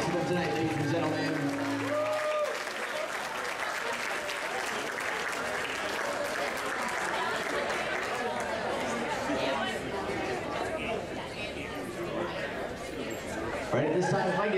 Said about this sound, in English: Big round of applause for them tonight, ladies and gentlemen.